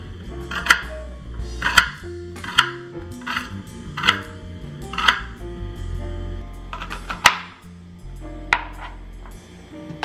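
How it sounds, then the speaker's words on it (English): Potatoes being cut into bite-sized pieces on a cutting board: about eight sharp, close knife strikes land at a steady, unhurried pace, with a low background hum between them. "we're just going to cut our potatoes bite-sized into small bite pieces"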